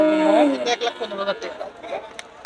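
Holstein Friesian cattle at a cattle market give one drawn-out, wavering moo close by for just over a second, followed by softer market noise and faint background voices.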